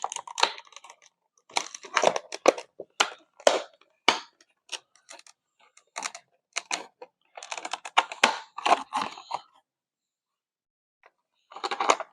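Cardboard and plastic packaging of a Kaiyodo 1/20 Starship Troopers Powered Suit toy, 1988 Japanese anime version, is pried open. Close, crinkly rustles, snaps and crackles come in uneven bursts, with a quiet pause before a final flurry.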